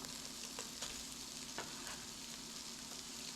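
Green peppers, mushrooms and onions sizzle in a deglazed pan with a steady, soft crackle and occasional sharper pops, no voices over it.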